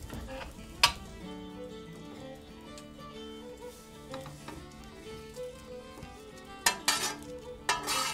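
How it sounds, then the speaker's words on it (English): Flour-dusted pan contents for an 18th-century soup scraped and stirred into a pot of boiling water, with clinks of metal on cookware, soft sizzling and a few sharp clatters near the end. "So now it's time to add the contents of our pan to our boiling water."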